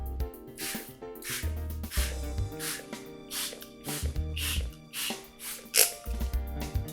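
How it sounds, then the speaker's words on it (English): Quick hissing bursts from a spray bottle misting water onto cotton watercolor paper repeat every second or so over background music, each spritz short and close. "So I'm just going to do a quick spray on both the papers."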